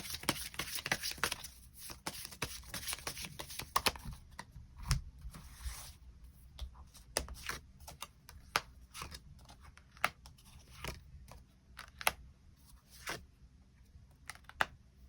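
Tarot cards are drawn and handled in a steady stream of light snaps, flicks and soft shuffling taps, close and quiet, with the card contact denser at first and sparser later.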